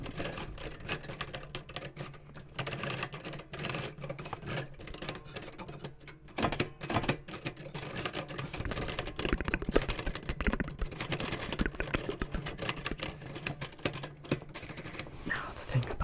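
Keys clack rapidly on an old typewriter, a dense run of close, crisp mechanical strikes continuing throughout, with a person speaking softly over the typing.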